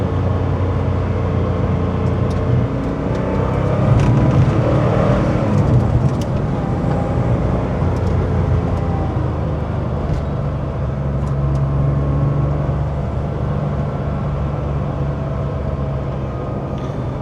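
A 1985 Porsche 911 Carrera with stock exhaust driving along, a steady engine drone and road roar that swells slightly mid-run, heard from inside the car.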